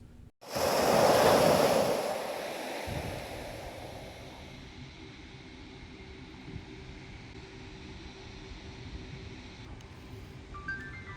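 Gusty wind buffets a pocket camera's microphone outdoors, a loud rushing roar in the first two seconds that eases into a steady, fainter rumble of wind noise with no talking.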